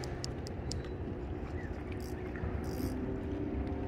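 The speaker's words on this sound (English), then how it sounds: "I'll push this off with the motor" A boat's outboard motor runs steadily close by while pushing the craft off, a continuous low rumble with light wind and water noise and no talking.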